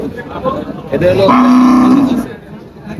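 A local cross-breed cow at a cattle market lets out one loud, close moo lasting about a second, with murmuring voices and outdoor noise around it.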